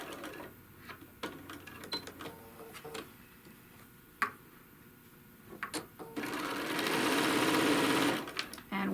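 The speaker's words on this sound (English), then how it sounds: "And we're sewing again to the opening." Sewing machine stitching a tote bag panel, running in short bursts of rapid ticking separated by pauses and clicks, then a longer steady run near the end, close and fairly quiet.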